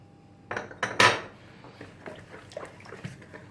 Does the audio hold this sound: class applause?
no